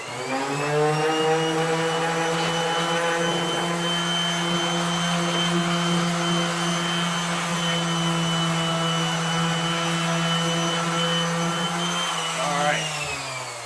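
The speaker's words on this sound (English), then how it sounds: "Now where it's all been sanded, let me get the rest of this." Power sander working on a wooden end table, a steady, loud whirring drone with a constant pitch that runs continuously and winds down at the very end.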